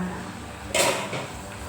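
A ladle scoops cooked suki from a pot into a bowl, with one bright clink of metal against dishware followed by a brief liquid splash, close and fairly quiet.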